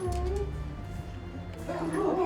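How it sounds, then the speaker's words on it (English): A small Chinese pug puppy gives faint yips and whimpers, mixed with voices and background noise around a game-night table. "It's an adorable little Chinese pug."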